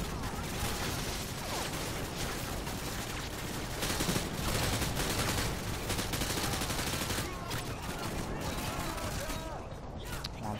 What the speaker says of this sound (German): die neue Flugabwehr. Und die schießt auch gleich kräftig